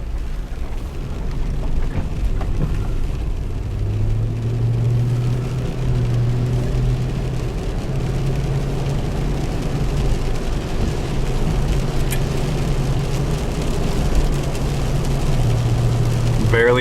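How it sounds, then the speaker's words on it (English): Cabin of a 2004 Toyota 4Runner on a test drive, with steady engine drone and road rumble throughout and a low hum that rises and falls as the vehicle shifts, loud and continuous. "So let's take this for a drive."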